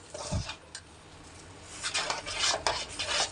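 A thick lentil and jaggery filling with cardamom powder, fennel and carom seeds is mixed by hand, making close scraping, rubbing and clinking against the vessel. The sounds come in bursts that grow busier toward the end, with no talking.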